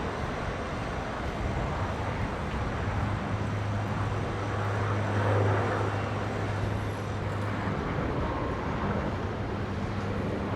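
A USAF C-17 military transport departs runway 19 left at Brisbane airport, a continuous broad distant rumble of jet engine noise with a low steady drone, no voices.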